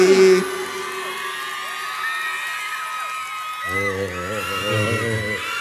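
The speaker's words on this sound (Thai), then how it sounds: "ขอเสียง ปรบมือ สักที ดังง" A crowd at a live Thai stage performance in Ratchaburi cheers and whoops steadily at moderate volume, and a voice comes in loudly near the end.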